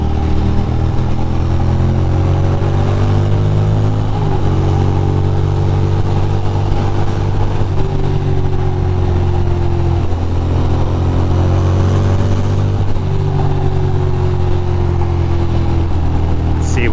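A Ducati moped runs on a wet ride through downtown Brooklyn, its engine droning loud and steady with pitch rising and falling at several gear changes across the whole stretch.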